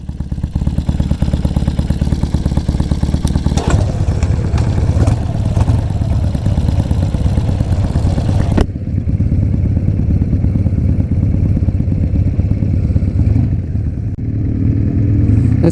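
A Triumph motorcycle engine runs loudly and steadily while riding, a continuous rumbling drone with faint rattles and a brief shift in tone midway, with no talking.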